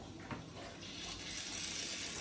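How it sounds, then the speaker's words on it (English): Water hissing and trickling from a radiator bleed valve on a home heating system, a close, steady spluttering flow that grows slightly stronger, with no talk. "there's some water coming out there"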